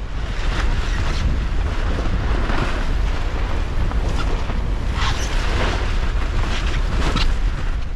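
Loose sail on a sailboat flapping wildly in strong wind while drifting toward shoals, a continuous loud roar of wind buffeting with irregular snapping surges throughout.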